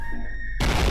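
An explosion in the video game SCP: Containment Breach: a quiet tonal hum cuts off abruptly into a sudden loud, broadband roaring blast that fills the rest of the moment.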